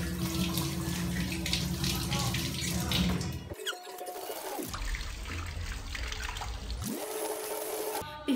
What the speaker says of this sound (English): So we have to wash our hands before preparing our food.